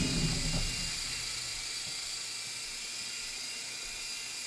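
An E-flite Blade mcX micro RC helicopter hovers with a steady, high-pitched motor whine and rotor hiss, loud and close at first, then settling to a constant level, with no talk.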